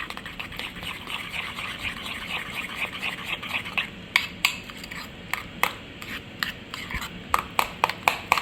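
A chicken tikka masala marinade with red colouring and yogurt being mixed in a bowl: steady soft stirring and scraping, then a run of sharp, close clicks and taps of a utensil against the bowl, with no talking.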